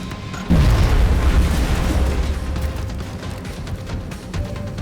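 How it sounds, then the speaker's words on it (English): An alien grenade goes off in XCOM Enemy Within, a sudden loud deep boom that rolls into a long rumbling, crackling decay and slowly settles under faint debris noise. "An alien grenade on those guys on the right."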